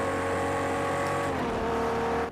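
A Jaguar E-Type race car engine in the Project Cars 2 racing game drones loudly and steadily with a strong harmonic whine, holding high revs through a corner before cutting off abruptly at the end.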